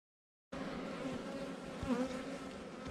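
Honeybees buzz steadily and close by after a brief silence as they are shaken off a hive frame, a dense droning hum with individual bees weaving in and out.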